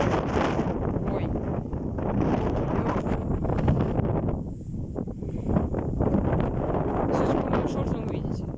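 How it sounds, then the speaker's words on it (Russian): Storm winds tear across an open field in gusts near 23 m/s, a steady heavy roar with surging buffets against the microphone while people talk underneath. "Да, вот и шторм. Шторм пошел."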